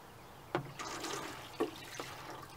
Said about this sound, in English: And then I'm going to water everything nicely.